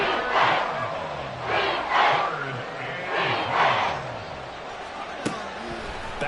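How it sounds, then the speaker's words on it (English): Stadium crowd in the Madden 24 football video game, a broad roar that swells in repeated waves after a sack on third and long, with a commentator's voice over it and a sharp knock near the end. "This crowd turning up the decibel level."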